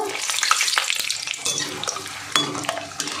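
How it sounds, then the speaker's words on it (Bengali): Shelled peanuts frying in a pan over a low gas flame sizzle steadily, with frequent scraping stirs and light clinks of a utensil against the pan. "আমি গ্যাসটা লোতে করে দিয়েছি, বাদামগুলো ভেজে নেব"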